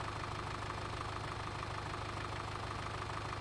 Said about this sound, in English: This is as fast as this tractor goes